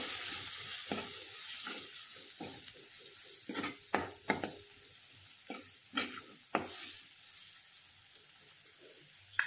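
Grated coconut being stirred with turmeric in a pan for a drumstick curry, with a soft continuous sizzle under a series of sharp spoon scrapes and taps against the pan, close, no voices.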